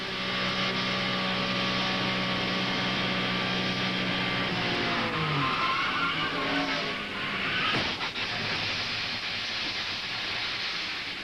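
Race car engine at the 1992 Poulan Pro 500, heard from an in-car camera heading into turn 3: a loud steady drone that suddenly drops in pitch and sputters, then a sharp crunching burst followed by rushing noise.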